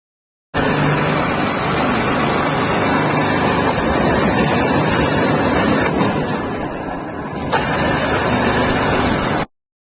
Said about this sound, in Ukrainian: Далі вмикаємо завантажувальний шнек